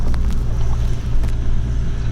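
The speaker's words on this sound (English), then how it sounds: "Driving a Land Cruiser through Africa." A Toyota Land Cruiser grinds through deep Botswana sand, its engine a loud, steady, close rumble that fills the whole stretch without pause.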